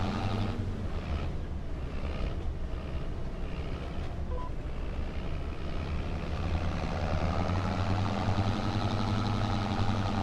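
Tractor engine in a farming video game, a low, steady rumbling drone with droning harmonic hum and slight wind-like hiss, continuous and moderately loud with no speech.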